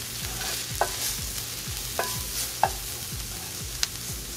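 Chili powder is stirred in hot oil for Mexican chile colorado green beans. A spoon scrapes the pan in a steady rhythm over a continuous sizzle, with a few sharp clinks.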